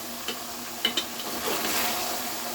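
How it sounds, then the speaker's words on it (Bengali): Spices being stirred into a meat and potato curry in a pan, a close, steady sizzle with a few scraping knocks of the spoon against the pan, no voices. "এইভাবে নাড়িয়ে নিলাম, মশলাটা যাতে সব জায়গায় লাগে।"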